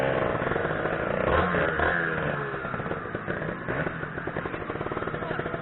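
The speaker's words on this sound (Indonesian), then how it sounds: "Ngebut gua motornya ini." A Kawasaki Ninja motorcycle speeds along, its engine droning and rising in pitch under wind rush and road clatter, heard from on board with a voice briefly talking over it.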